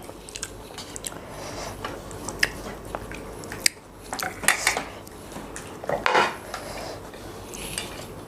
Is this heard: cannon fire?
no